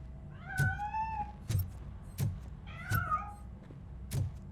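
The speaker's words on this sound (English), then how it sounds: "That cat must be hiding inside." A cat meows repeatedly in the Robocop: Rogue City video game, several rising and falling calls spaced about a second apart, each paired with a soft low thump, clear and close with no talking.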